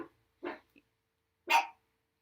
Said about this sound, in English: Can you hear my doggy?